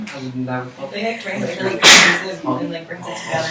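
A single sharp sneeze bursts out near the middle of a casual conversation in a meeting, loud and close, with people talking before and after it.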